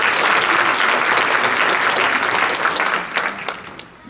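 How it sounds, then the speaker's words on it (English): Steady, full audience applause at an NAACP meeting, continuous dense clapping that thins and tapers off in the final second. "Let's give her another round of applause, please."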